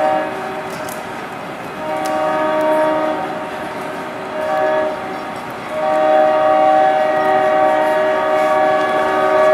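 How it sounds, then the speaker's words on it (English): Train passing on a San Diego rail line with a loud, sustained multi-tone horn that blasts in several long pulses over rumbling rail noise, close to the listener. "61? That's our train."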